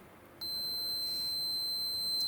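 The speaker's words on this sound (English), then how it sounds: "So you'll get a beep if you go between ground and the signal pin." A multimeter on continuity mode beeps with a steady high-pitched tone as its probes bridge ground and the signal pin of a Peugeot Citroen coolant level sensor, starting abruptly and holding continuously over faint background hiss.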